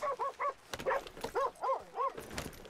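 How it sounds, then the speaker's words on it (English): A dog in a video game whimpers and yips in a run of short, rising-and-falling cries, repeated about half a dozen times at moderate volume, with no speech. "It's okay, Mr. Doggy."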